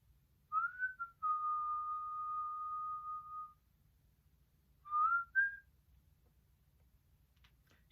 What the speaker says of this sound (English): I had to teach myself to whistle.